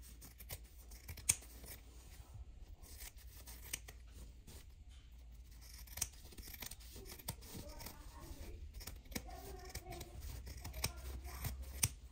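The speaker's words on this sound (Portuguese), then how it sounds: "agora eu recorto esse excesso" Scissors snip off an excess strip of fabric during sewing, with a series of quiet, close crisp cuts and rustling cloth. Faint talk is heard at times.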